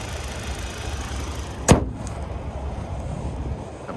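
A 2026 Hyundai Sonata SEL Sport's 2.5-liter Smart Stream four-cylinder engine idles with the hood open, a steady low hum broken by one sharp click or thud partway through.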